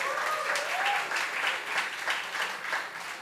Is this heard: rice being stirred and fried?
no